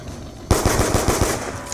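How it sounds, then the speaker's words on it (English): Short burst of rapid automatic gunfire from Call of Duty's Tranzit zombies map, about six loud shots in quick succession after a brief quiet moment. "Shot that man with 6 bullets."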